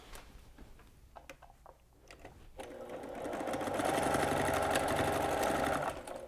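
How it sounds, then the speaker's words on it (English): Fabric for a needle book is handled with light clicks and rustles before a sewing machine starts stitching. The machine's steady, close whir builds in loudness and runs for several seconds, with no talking. "I'm gonna take it to the sewing machine and stitch all the way from the top of the outer book part"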